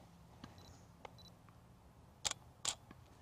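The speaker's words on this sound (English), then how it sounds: "So what I'm going to do first is take a shot of our little model Deanie here without a flash" A camera shutter fires without flash during an indoor portrait shot, with two sharp clicks late in the clip after a few faint handling ticks, close but quiet against a hushed room.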